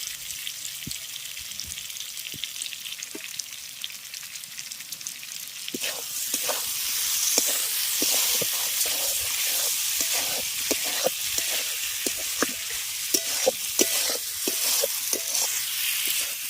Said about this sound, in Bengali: এবার ভেজে রাখা এঁচড় আর আলুটা দিয়ে দিচ্ছি সেই সাথে আমি এর মধ্যে চিংড়ি মাছটাও দিয়ে দেবো দিয়ে সমস্ত কিছুকে খুব ভালো করে কষিয়ে নেবো